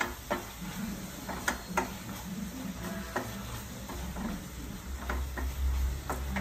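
Amla (nellikka) rasayanam is stirred continuously in a nonstick pan over a low flame, making light irregular taps and scrapes of the spoon over a quiet, steady sizzle.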